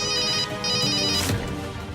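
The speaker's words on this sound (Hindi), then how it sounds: "इधर, यहाँ नीचे से फोन की आवाज आ रही है।" A mobile phone rings nearby with a bright electronic melodic ringtone, repeating tones filling the moment clearly and fairly loud, with no one speaking.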